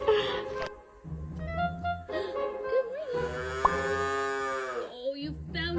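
A cow or calf on a farm moos several times up close, long drawn-out bellowing calls with short pauses between them, loud and clear.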